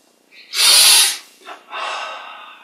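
A deep, close breath drawn in during a Yogoda meditation exercise, loud and airy for about half a second, then a brief softer breath and a longer, gentler airy breath trailing off.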